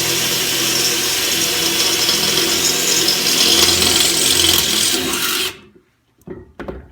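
A power drill bores a pilot hole through metal while installing a Captain Jon's Green Can Locker for 50-cal ammo cans, a loud steady grinding rasp lasting about five seconds before stopping abruptly, followed by a few faint clunks.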